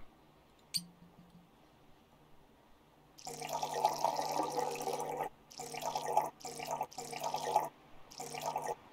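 Liquid sour cream pours in several bursts into a plate in the PC video game Cooking Simulator, a gurgling, splashing stream that starts and stops, after an earlier brief click.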